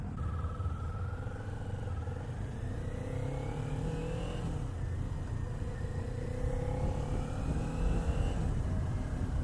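A 2019 Kawasaki Z400 ABS motorcycle being ridden, its engine note rising and falling through gears in a steady drone with a rumbling undertone.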